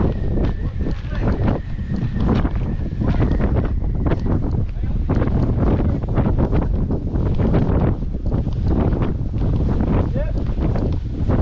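Strong wind roars continuously against the microphone while riding a jet ski on open water, a dense steady rush broken by thumps and splashes, with someone talking over it.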